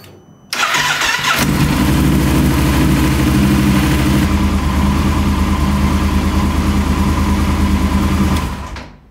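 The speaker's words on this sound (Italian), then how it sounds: "Ora accendiamo il motore e lo portiamo a 60 gradi." A car engine cranks over and catches, then settles into a steady, loud idle close by for several seconds while it warms toward operating temperature before an oil change, with no talk.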